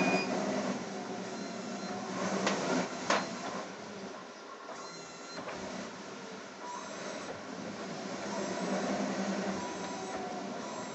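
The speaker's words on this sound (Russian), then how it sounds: "Подмотчик все равно работает в импульсном режиме" A material winder-unwinder on an ultrasonic cutting plotter runs with a continuous mechanical whir and rattle, pulsing in intermittent bursts with occasional clicks, steady and fairly close with no talking.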